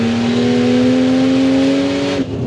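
A modified Ford Falcon XR6 Turbo, tuned to about 450 kW, holds a loud, rising rev close by, its engine tone climbing steadily for about two seconds before cutting off sharply.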